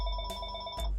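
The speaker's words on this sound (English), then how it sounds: "That's the phone." Telephone bell ringing in two short bursts with a steady electronic tone, fairly faint and brief, with no talk.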